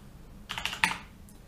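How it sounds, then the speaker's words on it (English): A few quick keystrokes on a computer keyboard, faint and close, forming a short burst of clicks in a quiet room. "Actually, if I start typing,"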